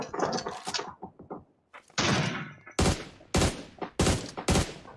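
Bursts of gunfire from the mobile battle royale game PUBG Mobile ring out in several loud, sharp volleys with short gaps between them, close and punchy.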